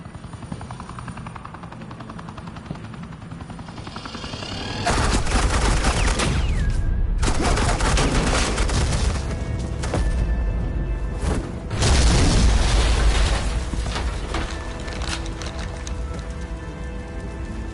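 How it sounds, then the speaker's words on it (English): Suppressing gunfire and explosions from the Telltale Batman Season 2 video game, a loud sustained barrage of rapid fire with heavy booms, rising sharply after a quieter start and surging again midway. "Suppressing fire."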